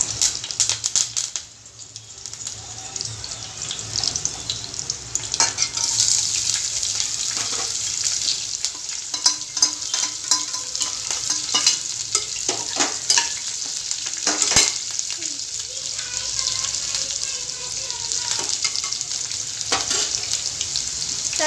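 Onion, green chilli and curry leaves crackle and sizzle loudly in hot oil in a pan, a dense continuous spitting hiss with scattered sharp pops and occasional stirring scrapes.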